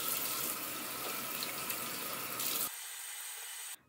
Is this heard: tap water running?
yes